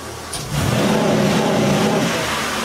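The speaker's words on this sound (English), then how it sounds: "This car's got a rev limiter." A car engine is held at high revs against the rev limiter, giving a loud, sustained, buzzing roar close by after a brief quieter lead-in.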